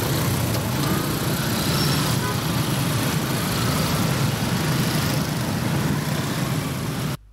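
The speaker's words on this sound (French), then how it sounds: "Des motos et tricycles sans plaques circulent en toute quiétude, et ce, sous l'œil des éléments de la police républicaine." Motorcycles and tricycles without plates driving through a busy city intersection in Benin, a loud continuous rumble of engines and traffic that holds steady without letting up.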